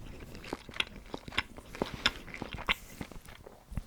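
Tough Turkish gum chewed close to the mic in a steady series of wet, crunchy bites and smacks, about a dozen sharp chews over a few seconds with no talking.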